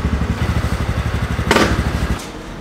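A fast scooter's engine fires up and settles into a rapid, even idle, with a couple of sharp clattering bursts partway through, heard close and alone.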